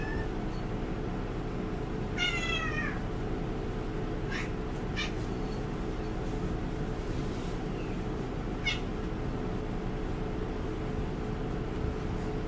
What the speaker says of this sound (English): Your cat has been very, very needy today.